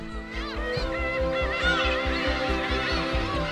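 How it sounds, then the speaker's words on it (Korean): Young seagulls on the remote Gyeokryeolbiyeoldo islands call in a noisy chorus of wavering, squealing cries, layered over a steady, rhythmic low thumping. "험난한 야생의 세계에서 살아남은 어린 갈매기들."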